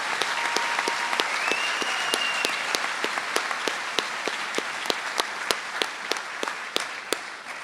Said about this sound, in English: How about a loud round of applause for all the awards these seniors have accomplished?